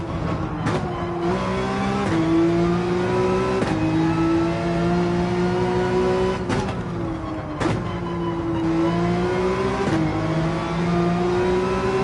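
A race car engine in Gran Turismo 7 revs hard and steadily, pitch climbing through each gear then dropping sharply at several upshifts, loud and continuous, with no talk over it.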